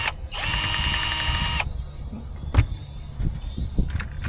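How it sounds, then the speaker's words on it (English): A power drill bores a hole into track timber during gauge one 45mm garden railway repair: one loud, steady high whine for about a second, then scattered clicks and handling knocks. "drill another hole."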